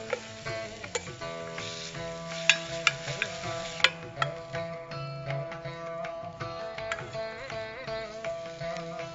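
Kalyana murungai leaf paste sautéed in a pan: a steady close sizzle with irregular spoon or spatula clinks and scrapes against the pan, over a sustained tonal hum.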